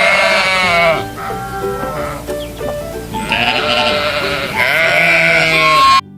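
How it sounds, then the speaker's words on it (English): Sheep on a farm bleat loudly and close by, several long wavering calls one after another with short pauses between, ending abruptly. "Can you bleat like a sheep?"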